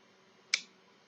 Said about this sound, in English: you can hear an audible click when the trigger resets.